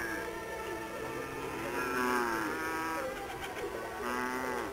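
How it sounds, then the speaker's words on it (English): Cattle low in long, drawn-out moos that overlap one another, faint and steady over a hissy background, with no one talking. "The only sound was the lowing of the cattle."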